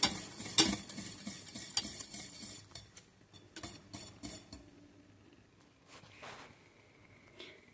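A spoon stirs a ginger-honey gingerbread mixture in a pot, making repeated soft scraping clicks and light metallic taps in an uneven rhythm that fade toward the end, with no talking.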